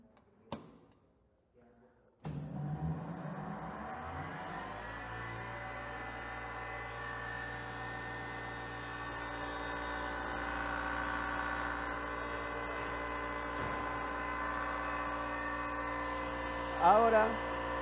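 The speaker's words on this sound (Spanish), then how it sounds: "vamos a volver a encender la máquina para ver el giro que tenemos ahora" After a couple of sharp clicks, an electric machine starts up and spins, its hum rising quickly to a steady tonal whine that holds evenly, close and clear, with a brief knock near the end.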